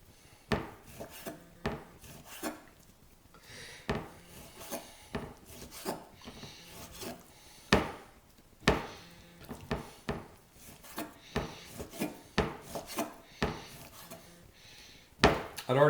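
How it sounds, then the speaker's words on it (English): A knife slices deer or wild hog meat into small strips on a cutting board, each cut a short rasping scrape ending in a soft knock. The cuts come steadily about once a second, close and fairly quiet, with no talking. "now I just cut into small slices"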